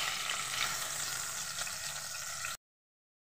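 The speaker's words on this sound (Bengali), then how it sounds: "দু পিস দু পিস করে আমি ভেজে নেব।" Bangda fish, two pieces at a time, frying in hot mustard oil in a kadai, giving a steady, close, dense sizzle with no voices before the sound suddenly cuts out near the end.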